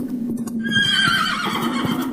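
A horse neighs loudly and close by in a short rising-and-falling whinny, with faint hoof movement underneath.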